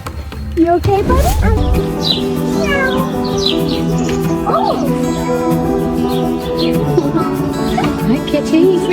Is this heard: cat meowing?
yes